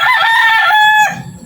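A tethered pet rooster crows once close and loud, a long, strained cock-a-doodle-doo that holds its pitch and then trails off into a faint rustle.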